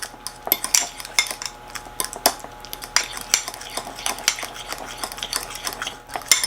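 A spoon clinks and scrapes quickly around a bowl while butter and sugar are mixed into a banana topping for a 1970s-style baked sweet potato. The rhythm is busy and irregular, close up, with no talking.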